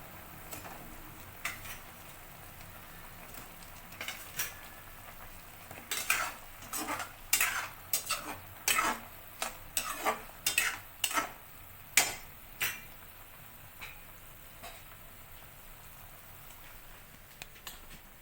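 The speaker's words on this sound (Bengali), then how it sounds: "এবার আমি মিষ্টিগুলো দিয়ে দিচ্ছি দু মিনিট আমি ফুটিয়ে নেব" Kalo jam sweets, made from chhena, go into a pan of simmering syrup. A low bubbling runs throughout while a series of sharp metallic clinks and taps, like a spoon against the pan, come in an uneven cluster through the middle.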